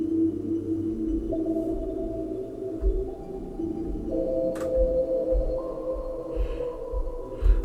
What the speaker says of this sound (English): it creates sort of resonance type instruments using multi layers and all that sort of stuff